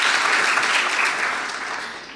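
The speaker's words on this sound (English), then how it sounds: "Please give them a round of applause" A school debate audience breaks into steady applause for a girls' team, a dense wash of many clapping hands that holds for a moment and then starts to fade.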